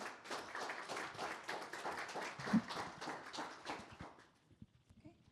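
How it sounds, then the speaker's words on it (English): Applause from an audience at a community violence-prevention event, quiet and somewhat distant, with scattered claps thinning out over the last second. "give a big round of applause to Victoria"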